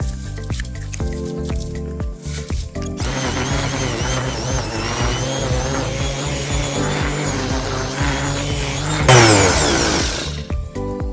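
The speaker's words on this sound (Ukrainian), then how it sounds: "Зараз покажу вам, як шліфуються такі бруси." A loud power sander grinds steadily against wooden beams for a terrace, its motor whining continuously with scraping texture, rising to a harsher burst near the end.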